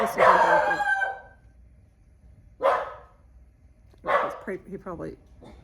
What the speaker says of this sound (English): He's barking at the window.